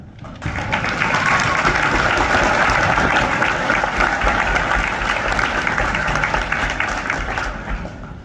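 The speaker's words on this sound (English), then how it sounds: "can we have another round of applause for all?" Sustained audience applause filling a school Veterans Day assembly, loud and steady for several seconds before tapering slightly at the end.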